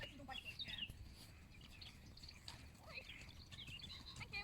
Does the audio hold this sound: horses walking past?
yes